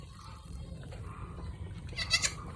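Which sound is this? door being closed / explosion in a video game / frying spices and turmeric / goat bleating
goat bleating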